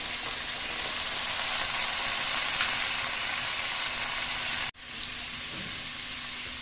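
Onions and garlic fry in a pan for aloo gajar matar sabzi, giving a steady, loud, close sizzle with a brief dropout near the end before the frying resumes.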